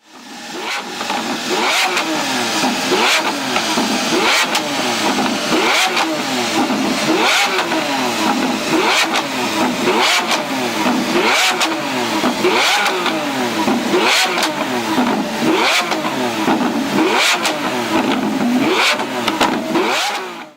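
A car revs repeatedly through a titanium and Inconel exhaust that spits flames, each loud rising blip of engine noise falling back in a steady rhythm of over a dozen revs, close and continuous with no talking.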